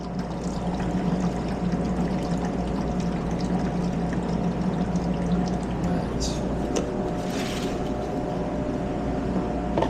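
Homemade horchata pours in a steady continuous stream in a restaurant kitchen, a close watery rush over constant background machinery hum and kitchen noise.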